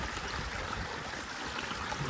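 Flood water from heavy rain rushes past in a steady, broadband roar, close and continuous, with no voices.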